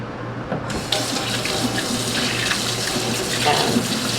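Kitchen tap water runs steadily into a sink while a large piece of beef for a crockpot pot roast is rinsed, a close continuous splashing hiss that starts abruptly and carries on without talk.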